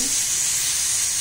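Steam jets out of a pressure cooker cooking chicken pulao, a loud, steady hiss that runs unbroken from start to finish with no voices.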